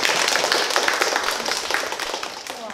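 Audience applause fills the room as a woman named Hanazawa Seiko, representative of a rakugo-style venue, is introduced at a live talk event. The clapping is dense, steady and moderately loud throughout, with no voices over it.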